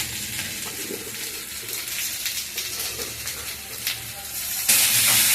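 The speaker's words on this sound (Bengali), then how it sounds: "এবার আমি এটাকে ভালো করে নেড়ে চেড়ে কষিয়ে জল ঢেলে দেবো" Soybean curry with vegetables frying in a pan while being stirred, a steady close sizzle and hiss with scraping stirs, growing louder and brighter near the end.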